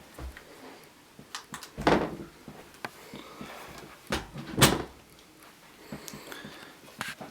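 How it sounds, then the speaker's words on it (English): A door in a house is kicked closed, giving a sharp thud followed later by a second loud bang, with scattered softer knocks and shuffling in between, close by and without talking. "I'm gonna kick this door closed."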